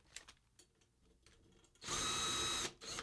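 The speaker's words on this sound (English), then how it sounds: "Grab the drill." A power drill turning snare drum tension rods whirs in one short, loud burst of about a second, preceded by faint clicks and handling noises.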